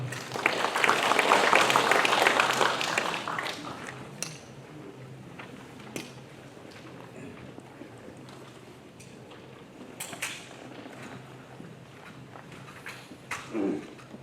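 Forum audience applauding a welcome for a ministry tourism official, at the Chungcheong Confucianism International Forum; a loud burst of clapping for about four seconds, then fading to scattered claps and room noise.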